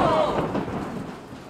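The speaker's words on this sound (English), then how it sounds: "an incredible summer storm, the kind you only get in the American South. Cracks of lightning split the sky." A summer thunderstorm in the American South, with a broad rumble of thunder and heavy rain filling the space, loud and steady before slowly easing off.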